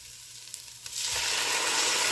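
Tomato hits a hot pan and a bright, steady sizzle swells up suddenly after a few faint clicks, then holds loud and continuous.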